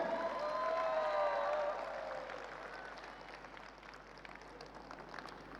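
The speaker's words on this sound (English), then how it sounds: "One big round of applause for Mr. Wenceslav Zlatkov" A crowd at a corporate conference event applauds steadily, the clapping dense and fairly distant, fading slightly toward the end while a voice carries over it at first.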